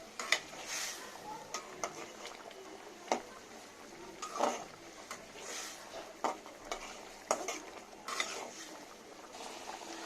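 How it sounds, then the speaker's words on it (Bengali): Hilsa fish pieces sauté in a pan, a soft continuous sizzle broken by repeated clinks and scrapes of a spatula stirring, close and fairly quiet, with no talking. "মাছটা একটু কষায় নেব"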